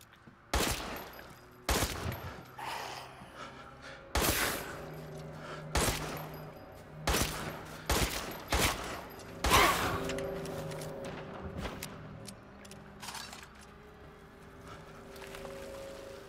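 Gunfire in Resident Evil Village: a string of loud single shots, each sharp and separate and spaced a second or two apart, over a quiet rumbling background that grows calmer toward the end.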